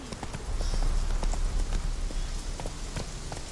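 Roach, the horse in The Witcher 3, gallops with quick, even hoofbeats that drum steadily at close range under faint game ambience, with no talking.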